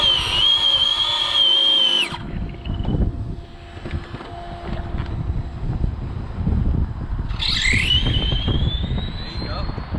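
An RC drag racing car screams through a no-prep run, a high-pitched whine for two seconds, then wind and rumble, and a second rising whine near the end; voices talk in between.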